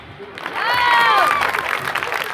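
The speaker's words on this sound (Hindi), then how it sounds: "ताली" Audience at a Chhattisgarhi stage comedy show claps and cheers, with bright whistles rising over a steady wash of clapping that swells and holds for about two seconds.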